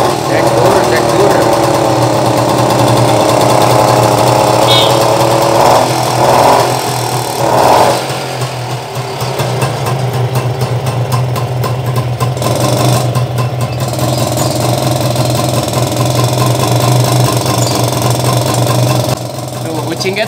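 A classic 20th-century DKW Union motorcycle engine sputters to life after choking and settles into a loud, rapid, rattling idle, with brief pauses and people talking nearby.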